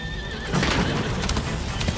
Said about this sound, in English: Look, the horse.